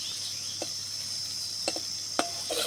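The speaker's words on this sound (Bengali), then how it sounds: "তো এভাবে প্রথমে একটা পাশ আমি ভেজে নিচ্ছি তারপর উল্টে পাল্টে আরও একটা পাশ ভেজে নিলেই দেখবেন খুব সহজে কিন্তু পটলগুলো ভাজা হয়ে গেছে" Slices of pointed gourd (potol) fry in a pan with a continuous high sizzle, marked by a handful of sharp clicks and taps as they are turned, close by and without voices.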